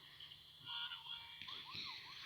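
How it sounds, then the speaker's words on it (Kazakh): A car alarm in the GTA 3 video game, a faint electronic wail that sweeps up and down in pitch and grows busier and louder midway, with no talking. "Мына сигнализацияны қойсайықшы"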